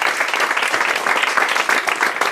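Audience applause at a family birthday celebration, a dense, steady wash of clapping filling the whole stretch at close range with no pauses.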